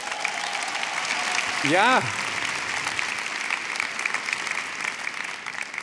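A crowd applauds for a folk group at the GAMMA music industry awards in Latvia, steady clapping throughout, with a short shout of approval early on.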